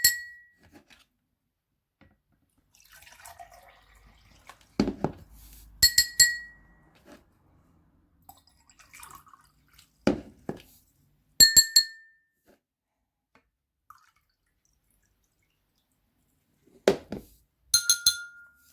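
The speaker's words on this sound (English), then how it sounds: "if you get a few different glasses, filling them up in different levels of water, you could make your own little musical instrument" Glasses filled with different levels of water, played as a little musical instrument: scattered bright clinks and ringing tones, some in quick clusters of two or three, separated by near silence, close and distinct.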